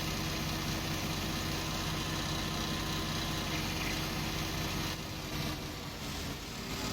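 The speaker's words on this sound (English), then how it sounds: "when I'm in top gear here and the engine's just fully revved out like it is" Tractor engine in Farming Simulator 19 held fully revved in top gear, a steady loud droning hum with constant vibration that barely varies, running alone with no talk.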